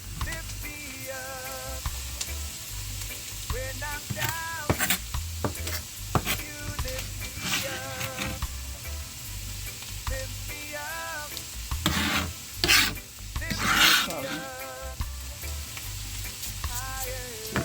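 Onion, pepper, thyme and green onion sautéing in a pan for shepherd's pie, a continuous close sizzle broken by frequent spatula scrapes and stirs, a few louder scraping bursts near the end, with no talk.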